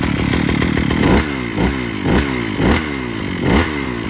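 A Villager 1900S petrol brush cutter engine, a 1.9 hp machine, runs close and loud with a buzzing two-stroke rasp, rising and falling in a regular rhythm of roughly five surges over a few seconds.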